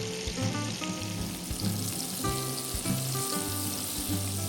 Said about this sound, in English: Add the sausages, spread them out, and cook for about 1 or 2 minutes per side.